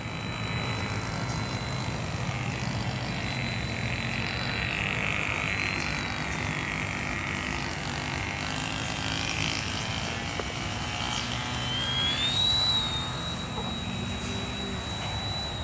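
A GWS Tiger Moth RC model airplane flies over an open field, its small engine giving a steady, moderately distant drone that swells briefly with a higher whine near the end.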